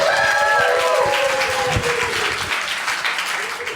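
A seated audience at a casting director panel breaks into loud, sustained applause, with a voice briefly audible over the clapping near the start.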